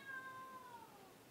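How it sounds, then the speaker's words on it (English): A cat named Maki meows softly in a single drawn-out call, faint and somewhat distant in a quiet room. "Maki's meowing over there."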